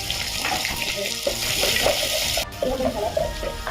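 Onions sautéing in hot oil with whole spices for mutton biryani, a steady close sizzle and crackle with occasional stirring clatter, lasting throughout.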